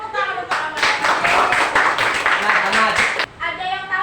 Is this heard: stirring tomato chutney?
no